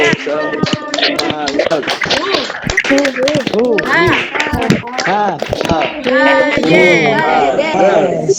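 A class of children led by their teacher chants while clapping hands together in quick rhythmic patterns, sharp claps punctuating the lively shouting.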